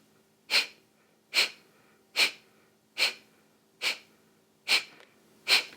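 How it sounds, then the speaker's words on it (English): Seven sharp, forceful nasal exhalations from a yoga breath-of-fire style exercise with the belly pumping, evenly spaced about once per second, close and clear against a quiet background. "forceful exhalations, pumping the belly as you do so."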